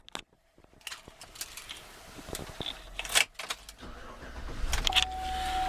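A silver 2009 Chevrolet Suburban LT is started from inside the cabin: keys jingle, chimes ping, then the engine cranks and catches into a steady idle rumble that grows toward the end.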